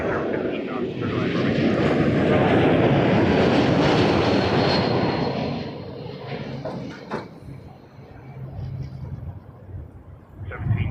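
Air Canada 931, a heavy airliner, lands on runway 24 left at Toronto Pearson: a loud, broad jet engine roar that fades after several seconds into a lower rumble, with faint distant noises near the end.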